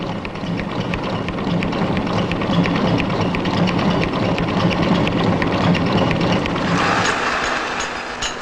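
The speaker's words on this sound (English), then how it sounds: "individual components were being tested to breaking point in special laboratory machines" Rubber suspension cones being pummelled to breaking point in a laboratory test machine: a dense, steady mechanical roar with rapid rhythmic ticking running through it, and a slight shift in tone near the end.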